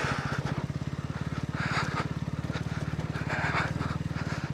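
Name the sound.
motorcycle riding slowly on a mountain road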